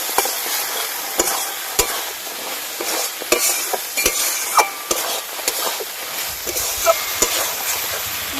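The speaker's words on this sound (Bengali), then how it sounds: "আলুটাও মশলার সঙ্গে দিয়ে একটু ভালো করে কষে নেব।" Fried potatoes are stirred hard through a spice paste in a pan, with repeated sharp scraping knocks of a spatula over a continuous sizzle in a steady, busy rhythm while dhokar dalna is cooked.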